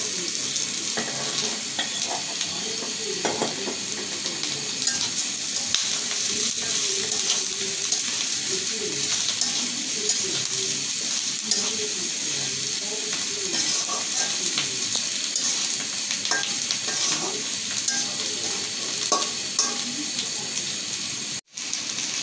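Pointed gourd (potol) frying with onions in a pan, a continuous close sizzle with stirring scrapes running throughout, ending in a brief sharp knock.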